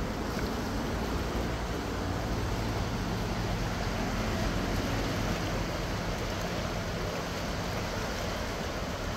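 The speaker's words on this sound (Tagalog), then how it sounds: "Low tide, pero ang lakas ng agos ng tubig." A strong current of water rushes under a bridge at low tide, a dense, steady broadband roar of flowing water filling the whole stretch without pause.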